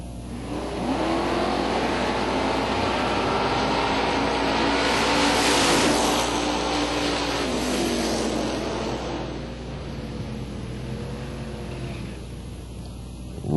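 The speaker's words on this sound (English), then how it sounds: "Dragsters, round two, the Dragster shootout" Dragster engines at a drag racing shootout roar up and build to a peak in the middle, then fade into a lower rumble as the run passes, loud but not extremely close, with no talking.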